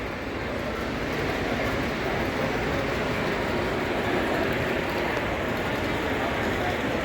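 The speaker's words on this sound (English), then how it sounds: "There's my Conrail locomotive right there." Steady, dense rumble of an O gauge model Conrail locomotive running on a model railroad at a model railroading event, continuous and fairly loud with no clear breaks.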